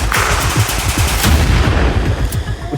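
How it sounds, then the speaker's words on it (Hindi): Rapid bursts of rifle gunfire from an assault group during an Assam Regiment army drill, loud, close and continuous, with repeated sharp cracks overlapping throughout. "Assault group will keep on firing."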